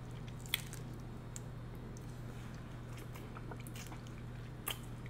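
Someone eats a spicy seafood boil and crushes shrimp heads with a soft, wet squish and chewing at close range. One or two sharper cracks rise above the low steady background.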